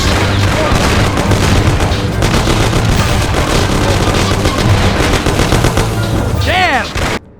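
Dense, loud gunfire in the gangster game Mafia, a sustained barrage of rapid machine-gun and pistol shots with booming impacts that continues nearly nonstop before ending abruptly.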